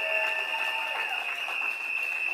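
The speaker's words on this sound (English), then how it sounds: "give them a round of applause." A crowd at a political party gathering applauds a crew, a dense continuous clatter of clapping with a steady tonal hum running beneath it, no voices over it.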